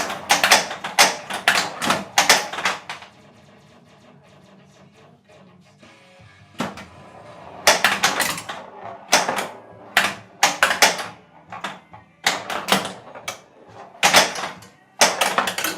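A Stern Foo Fighters pinball machine clatters in play, with bursts of sharp mechanical clacks, rattling ramp rolls and flipper thumps in irregular clusters, broken by a few quieter stretches of low rumble.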